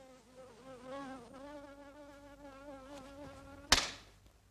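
A mosquito buzzes steadily with a wavering whine at close range, ending in a sharp slap near the end as someone swats at it, during a scene from the Italian comedy film Innamorato Pazzo.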